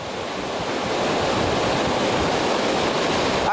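Sea waves and strong wind along the Babuyan Channel coast at Sta. Ana, Cagayan, during the landfall of Typhoon Marce: a loud, steady roar of surf and gusting wind buffeting the microphone throughout, with no voices.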